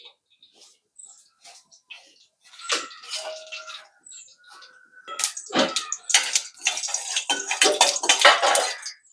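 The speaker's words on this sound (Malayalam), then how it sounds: "കുറച്ച് കടുക് ഒന്ന് പൊട്ടിച്ചെടുക്കാം." Mustard seeds crackle and pop in hot coconut oil in a pan, sparse irregular snaps at first that build into a dense, busy spattering, loud and close.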